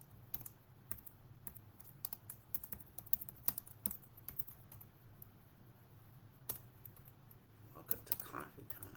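Fingers tap on a computer keyboard in irregular bursts of crisp, close clicks, with short pauses between runs of keystrokes in a quiet indoor room.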